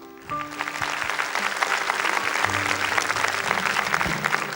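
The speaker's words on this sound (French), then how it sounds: "mademoiselle Céline, qu'on applaudit." Studio audience on a 1981 French television show for children breaks into loud, sustained applause, dense clapping that swells after a short quiet start and holds steady.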